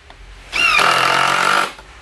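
A power driver sinks a 1 5/8 inch screw into wood for a ten-shot rack, giving one steady buzzing whir about a second long, close and loud, with no talk.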